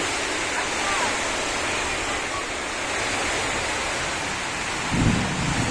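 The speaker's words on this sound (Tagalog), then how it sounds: "Yan, ang lakas ng ulan." Heavy rain pours down in a dense, continuous hiss, with a low thump near the end.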